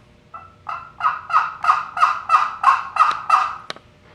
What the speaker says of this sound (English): That's basically the what we call the mating call of the hen to the gobbler. He gobbles and she answers with a yip